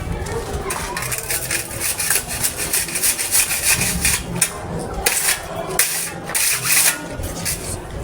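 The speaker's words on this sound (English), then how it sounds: "And here we are going to smoothen our lower surface of the paver by using our spade." Spade scraping and smoothing the lower surface of a compacted paver mixture, with repeated rough rubbing strokes in an uneven rhythm, close and fairly loud, while people talk in the background.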